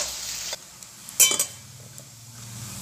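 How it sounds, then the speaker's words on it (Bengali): Medu vada, lentil fritters, frying in hot oil, a soft sizzle with a few sharp clinks and stirring knocks near the middle, fairly quiet and without speech. "আমি বাকি বড়াগুলোকেও তেলের মধ্যে ছেড়ে দিয়ে ভেজে দিচ্ছি"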